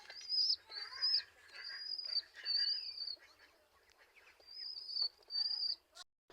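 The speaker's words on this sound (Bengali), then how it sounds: "কবুতরের বাচ্চা।" Pigeon squabs in a rural Bangladeshi village on a rainy day, giving repeated shrill, piping chirps in short bursts close by, with quiet gaps between them.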